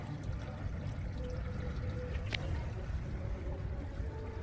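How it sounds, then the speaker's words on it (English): A turtle in an aquarium tank moves about in the water, giving continuous low sloshing and gurgling close by with a brief splash partway through. "Just watching Mr. Turtle, making sure he's okay. Keep playing in the water."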